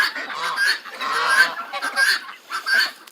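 Ducks and turkeys feeding outdoors give repeated nasal honks and squawks, close and fairly loud, in short irregular bursts with no talk.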